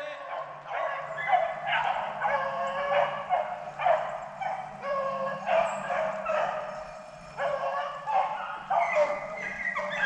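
Hunting dogs chasing swamp rabbits in the Mississippi Delta bark and yip in overlapping bursts, a pack baying at middle distance with rising and falling waves of calls.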